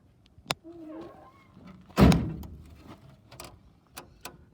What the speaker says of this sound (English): This door latches, the other one doesn't.